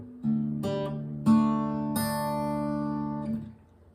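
Acoustic guitar plays the verse riff of a song: plucked single notes and hammer-ons on open strings, a few distinct attacks ringing out in a steady, close, clean phrase without talk.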